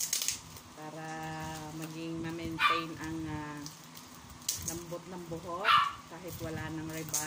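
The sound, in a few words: dog Bubbles barking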